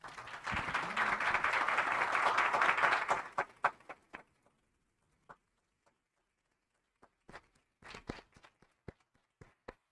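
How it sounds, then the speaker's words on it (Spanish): Applause from a panel audience at a conference inauguration bursts out strongly for about three seconds, then thins into scattered individual claps and taps that trail off with quiet gaps between them. "Quiero pedirles un muy, muy fuerte aplauso para esta mesa."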